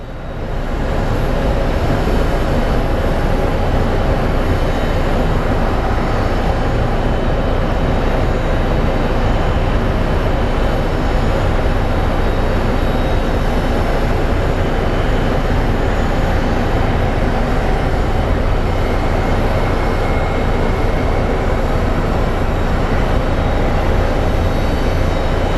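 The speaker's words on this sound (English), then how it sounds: "The A350 is one of our bigger planes" An Airbus A350 airliner lands at Phoenix Sky Harbor airport with a loud, steady broadband roar of jet engines and rushing air that holds unbroken for the whole span, with no voices.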